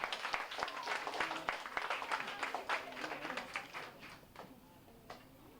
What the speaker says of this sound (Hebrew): מחיאות הכפיים לסבא